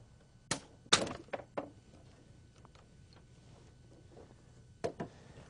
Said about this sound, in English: I'm going to apply adequate torque to break the barrel loose